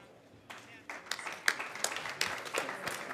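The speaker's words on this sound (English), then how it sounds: "Nous pouvons quand même les applaudir." Scattered applause builds at the World Trade Union Congress as individual claps grow into a fuller patter, fairly distant and moderate in level, with some voices audible underneath.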